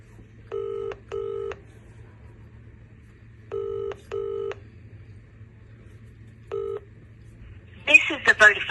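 A telephone call dials through to Vodafone voicemail: five clean keypad tones in pairs and a single beep over quiet line hum, then a voice starts speaking.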